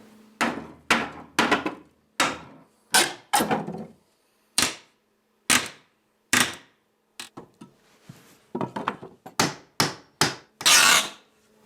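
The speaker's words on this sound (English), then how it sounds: "Just get a hammer and pull those out." Hammer blows and creaking wood in irregular bursts during shop demolition, some single knocks, some quick clusters, with scraping between them as nails are pulled from wooden trim. Close, no speech.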